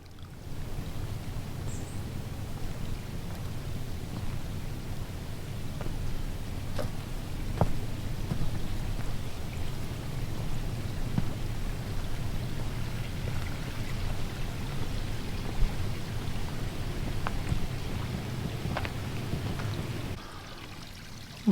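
Water runs steadily beside a small retreat hut, a soft, continuous trickling wash heard at a distance with a few faint clicks, fairly quiet and uninterrupted.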